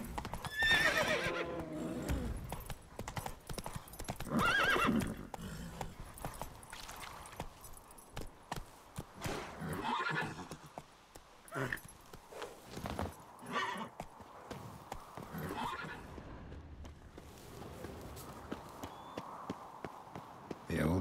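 Roach, a horse in The Witcher 3, gallops with rapid clip-clopping hooves and an occasional whinny, close and fairly loud, while a voice speaks over it and jingling tack sounds along.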